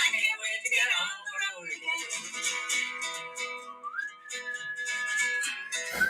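Someone whistles a solo melody on a song, heard as a bright, sustained whistled tune with sliding pitch changes and short gaps between phrases, clear and prominent.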